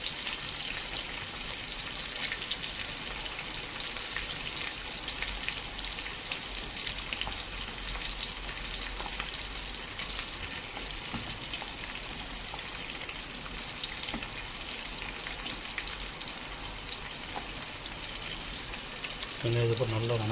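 Chopped onions frying in a pan for chicken curry give off a dense, even sizzle that runs unbroken and fairly loud throughout, with no one talking.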